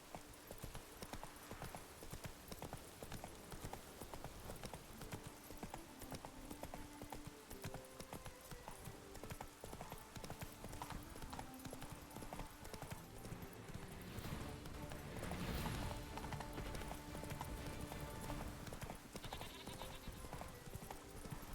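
Horse hooves clip-clop steadily on the ground in The Witcher 3: Wild Hunt, with an even walking rhythm under soft ambient game sound and an occasional faint whinny.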